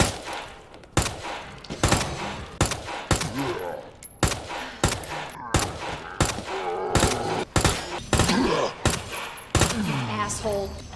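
A submachine gun fires in Resident Evil 2 Remake in repeated loud bursts of rapid shots, with short gaps between volleys and game sounds behind them.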